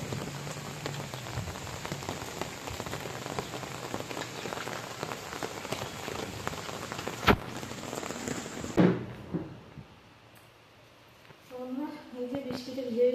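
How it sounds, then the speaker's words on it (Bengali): Heavy rain pours steadily in a broadband wash, near and loud, during a downpour while someone fetches chicken; it drops away abruptly near the end, leaving faint voices and quieter ambience. "কতটা বৃষ্টি পড়ছে"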